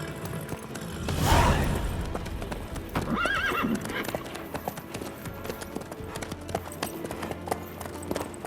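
Hooves clip-clop steadily from a horse in The Witcher 3, with a loud neigh early on and softer whinnying and creaking tack behind, carrying on without talk.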